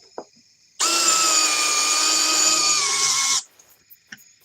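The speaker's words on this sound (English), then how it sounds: "They say you're not supposed to use these new Ryobi sockets for drills, but I'm doing it." A cordless drill fitted with a Ryobi socket runs at speed 1, a steady close whine with a sharp start and stop, sustained for about two and a half seconds between quiet handling noises.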